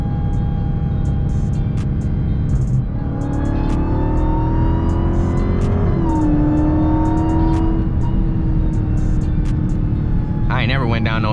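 Supercharged Dodge Durango SRT Hellcat driving, its engine drone rising and falling with a steady high whine layered over the rumble, close and loud, with someone talking over it throughout.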